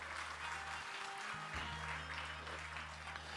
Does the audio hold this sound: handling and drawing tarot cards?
no